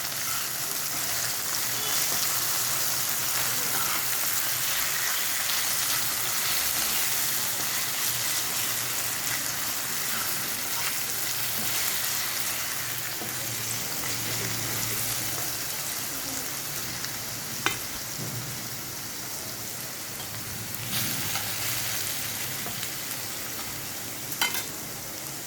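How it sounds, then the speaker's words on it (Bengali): Potato pieces fry in a pan for an Indian flattened-rice polao, giving a steady close sizzle throughout, with a few faint clinks of stirring and turning near the end. "এবার আলুটা আমার ভাজা হয়ে এসছে,"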